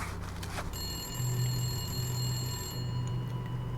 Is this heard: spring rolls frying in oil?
no